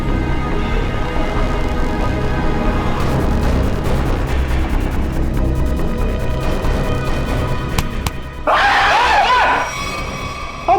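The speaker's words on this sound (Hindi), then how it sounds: "लड़की की तरह चीखता क्यों है?" A man's loud, sudden scream bursts out near the end of a tense scene in a Hindi crime drama, rising sharply over a dense, rumbling dramatic soundscape.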